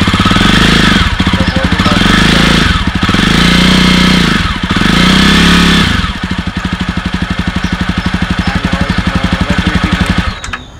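A Jawa Perak motorcycle engine running after its first service, a loud close rapid thumping beat that swells in revs a few times, then settles to a steady idle before cutting off.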